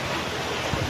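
Heavy rain pours outside an open window, a dense, steady hiss and patter filling the moment, close and fairly loud with no one speaking.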